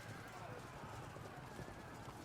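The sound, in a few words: horse archers' hooves and neighing in the video game Field of Glory II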